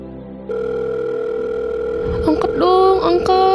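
A phone ringback tone in the Sakura School Simulator game: a steady electronic tone starts after a short pause and holds, then stacked bright chirping tones come in near the end, loud and close.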